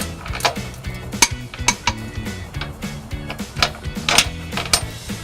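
Metal carriage bolt and plate being pushed and fed into the frame of a 2014 Ford Escape during trailer hitch installation, with irregular close metallic clanks, rattles and scrapes.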